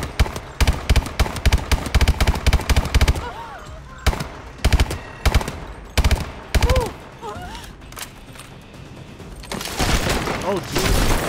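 Sustained suppressing fire in Call of Duty Advanced Warfare on the Santorini map: rapid, loud automatic bursts repeat in a steady rhythm, then break into shorter volleys while voices talk between the shots.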